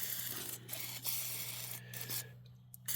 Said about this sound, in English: we may as well do WD-40 as a lubricant